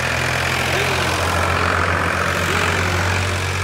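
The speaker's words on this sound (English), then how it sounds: "And the tractor's driving back by." A tractor passes nearby, its heavy low engine drone steady and loud throughout, with a rough, slightly knocking idle-like rumble and no speech over it.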